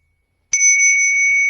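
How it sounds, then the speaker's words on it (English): A meditation bell is struck once and rings on as a clear, sustained bright tone that holds steady without fading, loud and alone with no voice over it. "This bell sound is connecting you to the third eye."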